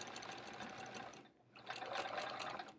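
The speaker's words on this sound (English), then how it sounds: "I'm definitely playing it safe on this quilt by just stitching in a ditch here." A sewing machine stitching in the ditch on a quilt, running in a steady rapid mechanical patter, pausing briefly midway before resuming at a slightly louder level, with no talking.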